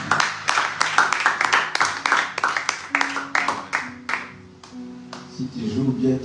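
A church congregation at a prayer meeting claps in rapid, rhythmic bursts that thin out toward the end as a sustained musical tone rises underneath.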